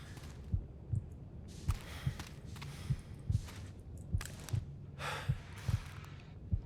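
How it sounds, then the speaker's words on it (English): Heartbeat effect from the survival video game The Long Dark, a steady low double-thump throbbing about once a second, with breathy gasps and sighs layered over it. "wonder if he can hear our heartbeat"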